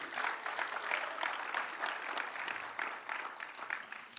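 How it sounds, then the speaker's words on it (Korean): A church congregation claps its hands in steady, rhythmic applause for over four seconds, heard at a moderate distance with no voices on top. "Clap your hands for Jesus."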